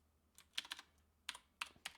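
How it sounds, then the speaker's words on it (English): Quick bursts of clicking keys on a computer keyboard, several clustered keystrokes followed by pauses, close and fairly soft against a quiet room. "Typing."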